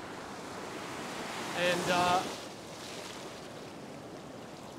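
Ocean surf washing onto a sunny beach with crystal clear water makes a steady, full wash of noise throughout, while a voice briefly speaks over it near the middle.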